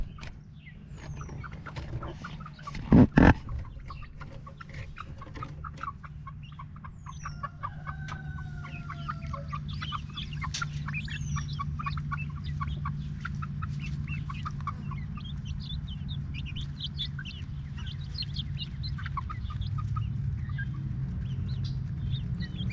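Six-week-old chickens clucking and chirping around their coop in a garden, a continuous busy chorus of soft calls at close range, with a brief sharp knock early on.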